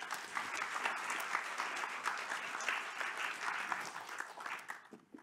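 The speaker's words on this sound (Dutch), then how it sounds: "Mag ik een warm applaus voor Michael?" A lecture audience at a Tilburg University Studium Generale event gives a warm round of applause for the speaker Michael, steady dense clapping filling the hall for several seconds before tapering off at the end.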